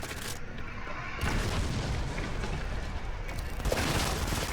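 Rapid gunfire in the video game Modern Combat 5 during a team battle, a dense, continuous booming roar of shots with heavy low rumble, loud throughout with surges around one second and near the end.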